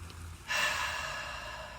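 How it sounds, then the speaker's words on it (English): A single deep breath drawn in through the nose, close and soft, a breathy inhale swelling after a brief quiet start and holding steady for over a second. "We're going to take 2 deep breaths."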